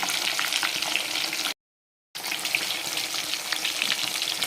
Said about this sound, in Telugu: చేప ముక్క వేగుతుంది ఇంకా తీసేస్తుంది సో యాక్చువల్గా చేప ముక్క వేయించేటప్పుడు టైమ్స్ పేలుతాయి అన్నమాట